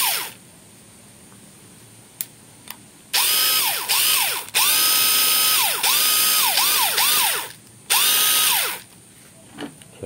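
Ozito cordless impact driver whirring in several loud bursts, each spinning up with sharp rising-and-falling pitch sweeps as the trigger is squeezed and released, with short quiet gaps between and no talk.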